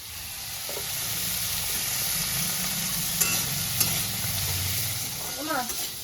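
Steady, soft sizzling of cauliflower and potatoes frying in a pan, with a few clinks of a utensil stirring and a brief distant voice near the end.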